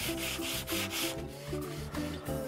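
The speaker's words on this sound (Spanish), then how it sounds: "lo que estamos haciendo es lijarlo con una lija fina hasta que quede muy" Fine sandpaper rubs back and forth across a stripped wooden furniture piece in steady rhythmic strokes, a close, scratchy hiss repeating about twice a second.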